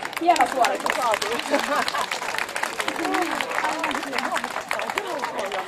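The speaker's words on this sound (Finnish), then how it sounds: "Annetaan aplodit." An audience at a firewood-chopping contest at an outdoor market fair claps and applauds steadily, with someone talking over the clapping throughout.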